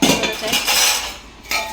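Dishes and cutlery clink and clatter steadily while being gathered and stacked for washing after a meal, loud and close, with no talking.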